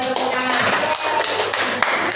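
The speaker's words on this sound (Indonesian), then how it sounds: "Beri tepuk tangan" Classroom students clap their hands together in an Islamic studies lesson, a brisk burst of close, sharp claps running throughout, with faint voices in the background.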